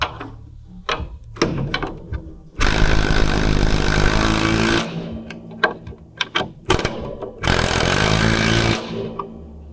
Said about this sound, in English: I'll go ahead and get my holes drilled